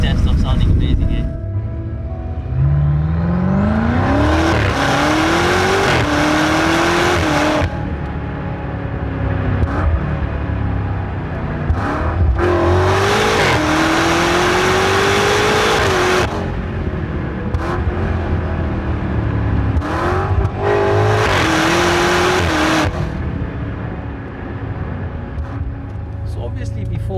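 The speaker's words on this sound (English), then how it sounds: "a louder exhaust. Let's hear what that actually sounds like." Exhaust of a BMW M5 Competition F90 revving hard in three long bursts, pitch climbing with each pull before dropping back, loud and close with brief lulls between.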